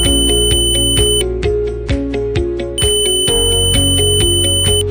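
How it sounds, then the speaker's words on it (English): An ANENG SZ308 multimeter's continuity buzzer sounds loudly in rapid repeated pulses, a steady electronic tone beeping on and off with a brief pause midway. "The test buzzes on and off, and the buzzer sounds to indicate normal patency."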